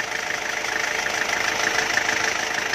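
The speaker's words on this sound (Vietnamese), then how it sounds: "Máy dầu nhá. Máy đang hoạt động rồi. Rất là êm ái luôn." A 2005 Ford Everest diesel engine idles steadily and loudly up close, a smooth, even mechanical hum with a faint rhythmic clatter and no voices over it.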